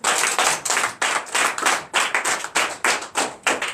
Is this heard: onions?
no